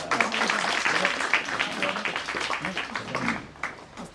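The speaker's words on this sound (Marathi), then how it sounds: "आपण त्यांच्यासाठी टाळ्या वाजवूयात" Audience applause at a book launch: dense, continuous clapping from a crowd, fairly close and steady for about four seconds, with some voices mixed in.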